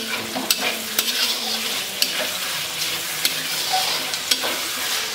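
One tablespoon of olive oil sizzles steadily in a pan, a continuous soft hiss broken by sharp crackles and spatters every second or so, close and alone.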